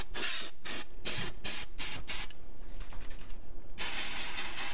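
An aerosol can of spray adhesive hisses in a quick run of short bursts, then falls quiet before one long, steady spray, loud and close with no talking.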